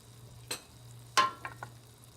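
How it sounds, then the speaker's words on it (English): A tomato, onion and flat-leaf parsley mixture goes into a hot pan: a short splash, then a louder sizzling burst and a few brief crackles, close, over a low steady hum. "Okay, so I'm gonna pour this tomato mixture in now."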